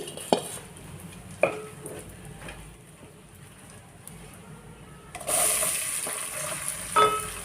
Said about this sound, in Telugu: ఇది మంచిగా ఫ్రై అయ్యేలాగా కలుపుకున్నాను.